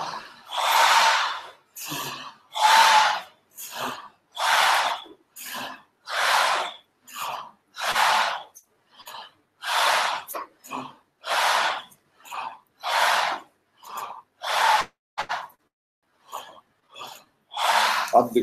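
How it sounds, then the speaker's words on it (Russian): A group breathing exercise: loud, close, forceful breaths drawn in and pushed out in a regular rhythm, about a dozen strong breath bursts with short gaps, some sharp and snort-like, with no clear talking. "Ручки вперед, делаем вдох."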